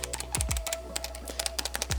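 Crisp tactile keystrokes on a Logitech G915 TKL wireless low-profile keyboard, a quick irregular run of close clicks and clacks with a few deeper thuds, no talking.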